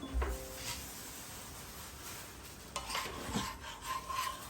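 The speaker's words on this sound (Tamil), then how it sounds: "இப்போ இதை நம்ம மாவில் கொட்டி கிண்டிடுவோம்" A spoon scrapes and stirs chopped onion and coriander leaves into thick multigrain adai batter in a bowl, giving close, uneven rubbing strokes with a brief clink early on.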